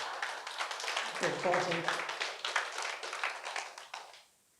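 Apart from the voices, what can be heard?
audience clapping at a lecture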